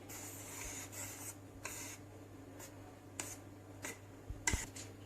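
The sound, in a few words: whisking semi-set coffee ice cream mixture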